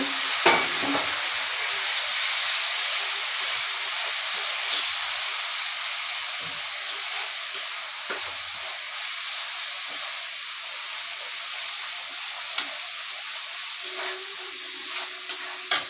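Cumin, dried chilli and coriander powder masala cooking with a little water, a soft continuous hiss and bubbling sizzle with occasional light stirring taps, steady and close.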